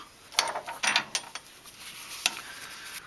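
A ratchet works a large oil pan bolt under a BMW Z4 E85 during an oil pan gasket job, giving several quick clicking bursts up close, followed by one isolated click and a quiet background.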